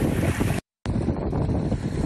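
Roughly 15-knot wind rushes and buffets the microphone aboard the sailboat Blue Bubble at sea. The loud, steady roar cuts out abruptly for a moment, then resumes just as strong.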